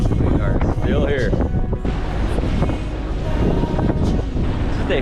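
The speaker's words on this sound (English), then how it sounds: "A little windy this morning." Strong wind buffets the microphone aboard a solo sailboat at sea off the US east coast, a loud, continuous roaring rush with gusty swells and faint water and boat noises beneath.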